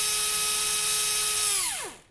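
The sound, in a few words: drill boring a hole into a tree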